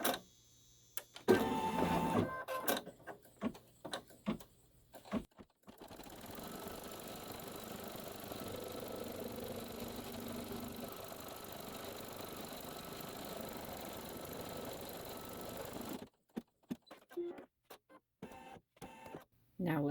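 A SweetPea embroidery machine stitches down batting with a steady mechanical whir and rapid needle chatter for about ten seconds, framed by brief handling clicks and taps before and after.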